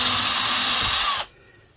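A power drill whirs steadily and loudly at close range as it bores into an RV table, then stops abruptly, leaving quiet room tone.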